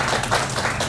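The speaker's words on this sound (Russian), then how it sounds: "Аплодисменты вот этой симпатичной девушке" Brief burst of applause from an audience at a ceremony launching construction of a 100,000 m² Wildberries distribution center in an industrial park, dense and steady throughout with no speech over it.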